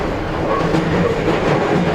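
An E131-1000 series train runs on the Tsurumi Line between Tsurumi and Ogimachi, its steady rumble heard close from inside the car, with no clear clickety-clack or voices.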